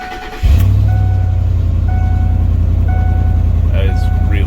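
Ford F-150 exhaust roaring after its muffler came off, a loud, deep, steady rumble starting abruptly and holding close by, with faint tones above.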